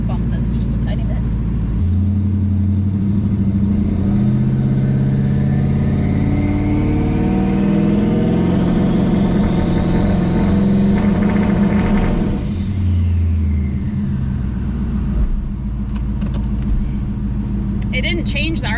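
A twin turbo Ford Mustang engine idles loudly nearby and revs up and back down in a long sweeping rise and fall, rumbling throughout, with people talking over it.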